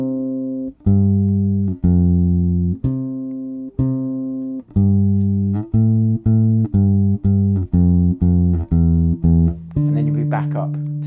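An electric bass plays a six-bar section of a song in a steady two-beat style, with clean sustained notes stepping through a descending line and a final held note.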